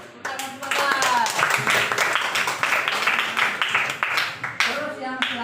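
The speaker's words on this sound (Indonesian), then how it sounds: "Tepuk tangan semangat." A primary school class claps together in a patterned, rhythmic cheer, the sharp hand claps close and lively with young voices mixed in.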